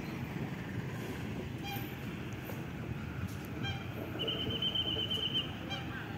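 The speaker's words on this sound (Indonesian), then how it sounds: "Balapan ya, antara dua lokomotif CC201 dan CC204 dan satu CC203." Three locomotives, CC201, CC204 and CC203, roll along the rails during shunting toward Jakarta, a continuous low rumble with a sustained high tone and a few brief horn-like notes, heard alone.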